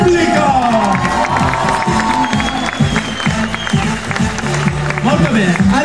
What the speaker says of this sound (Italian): Un applauso per il pubblico.